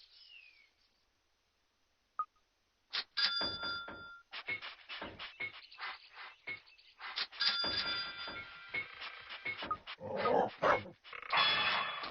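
Dog barking in the video game Constructor, a run of quick yips and barks in bursts after a single sharp click, fairly close and moderately loud, with no talking.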